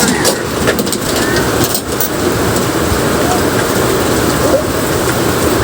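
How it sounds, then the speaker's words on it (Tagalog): Steady, dense broadband hiss of heavy rain pouring down, continuous and loud throughout with no letup. "Biglang bumuhos yung ulan."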